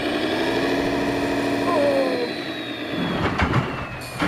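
Lamborghini tractor engine revving hard, a steady loud droning hum whose pitch slides as revs change, with short rattling bursts near the end.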